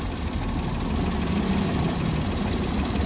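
A Toyota Wigo car engine idles abnormally, with a close, continuous low rumble and some uneven, knocking roughness running throughout.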